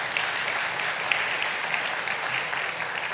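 Applause from a church congregation welcoming newcomers, a dense steady wash of many hands clapping at close range that continues evenly from start to finish.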